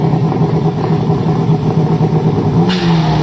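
A BMW E36 drag car with an M50 multivalve turbo engine and an 8HP automatic gearbox accelerates hard on a drag strip run. The engine roar is loud, close and continuous, with no talking.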